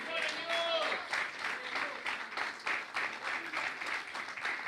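Applause from a church congregation during a Spanish-language sermon on blood in God's plan, steady clapping filling the whole stretch at moderate loudness with a voice briefly heard early on.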